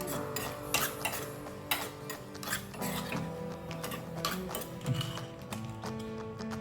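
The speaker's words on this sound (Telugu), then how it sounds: "ఎండు కొబ్బరి కూడా వేయించుతున్నాయి." Dry coconut roasts in ghee in a pan while being stirred, with repeated clinks and scrapes of a metal spoon against the vessel in an irregular rhythm over low background hum.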